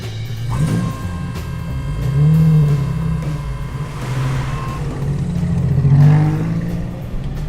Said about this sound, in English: the Drivers' Championship falling to Glemser in his Capri number 1 as he cruised down the finishing straight